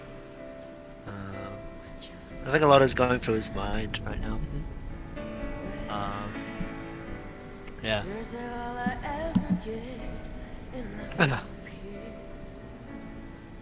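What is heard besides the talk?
rain falling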